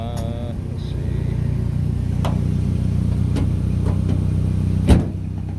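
A gas-electric hybrid car with a CVT idles after running for a long time, giving a steady low hum with faint ticks. One louder knock comes near the end.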